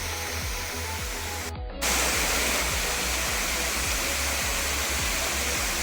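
A roadside waterfall at a forest cascade gives off a steady, loud, dense rush of falling water that fills the whole clip without a break. No voices are heard.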